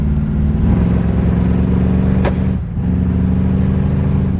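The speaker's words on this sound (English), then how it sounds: "So this is a fast and loud car." A 1968 Chevrolet Camaro muscle car engine idles with a deep, throaty rumble, briefly rising and dipping as it is revved, close by and steady throughout.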